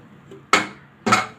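Pressure cooker lid being opened after cooking matar soya pulav, with two sharp metallic clanks of lid against pot about half a second apart, and a third starting at the end, in a quiet kitchen.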